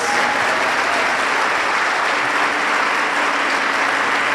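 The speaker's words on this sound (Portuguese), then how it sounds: "Vamos aplaudir a Jesus." Church congregation applauding during a Portuguese sermon, a full, loud and continuous roar of many hands clapping with no break.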